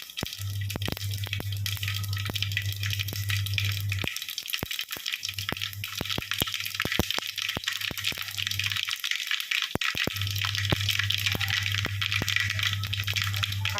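Mustard seeds splutter and pop in hot oil in a pan, a steady crackle of dense sharp pops over a low steady hum that fades in and out.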